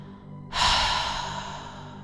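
A slow, forceful exhale out through the mouth during a breathing meditation, after a held inhale: a close breathy rush that starts abruptly and trails off gradually, alone with no talk.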